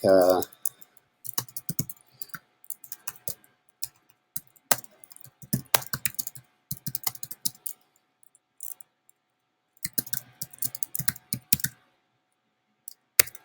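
Computer keyboard typing, scattered bursts of clicky keystrokes in short runs with pauses, fairly close, while someone fills in a Google Forms confirmation page; speech is tagged but no words are transcribed.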